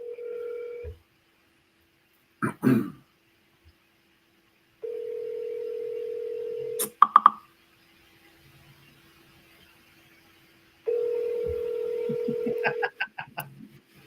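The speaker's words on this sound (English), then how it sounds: "JB, let's see if he answers." A telephone call rings out through a handset: a steady ringback tone sounds in repeated long bursts with silent gaps, broken up by brief clicks and button taps between rings.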